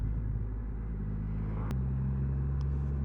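Triumph Rocket 3 R motorcycle ridden on the road, a steady deep engine rumble with harmonic drone throughout and a brief shift in pitch midway, close and continuous.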